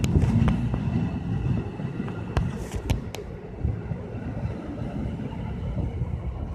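A train rolls into Raritan station with a low continuous rumble of rail cars and a few sharp metallic clanks and squeals, heard from the platform with light wind noise.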